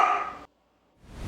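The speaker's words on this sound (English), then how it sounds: "The dog's gonna help out with the sound control." A pet dog gives a short bark or yip indoors, followed by a brief silence before another sound starts.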